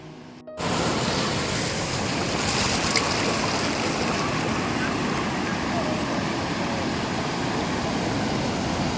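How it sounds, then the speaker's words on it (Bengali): Sea waves surge and break on the beach at Digha, a loud continuous wash of surf with wind buffeting the microphone, steady throughout after a brief quieter start. "সমুদ্রের ঢেউগুলো যখন পায়ের কাছে আছড়ে পড়ে"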